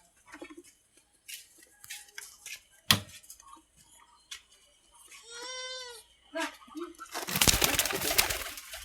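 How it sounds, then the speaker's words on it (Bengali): Paired pigeons nesting on eggs in a home loft give a short run of soft cooing midway, among scattered clicks, rustles and a burst of harsh noise at the end, with a voice talking at times. "দেখুন আমাদের কবুতরগুলো"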